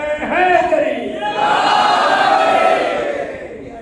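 A congregation at a religious gathering answers a call with a collective chant of the Naara-e-Haidari slogan, a single voice rising first and then many voices joining in a loud sustained shout that tapers off.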